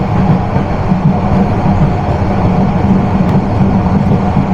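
Onboard the Turna Express, a Bangladeshi train running out of Sadar Rasulpur after a crossing, a loud, steady rolling rumble with a faint periodic hum, close and continuous, no talk.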